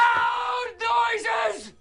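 Several people yell and whoop together at a CrossFit Open 18.1 workout, loud, raw shouting that runs in two sustained bursts with a brief break between them.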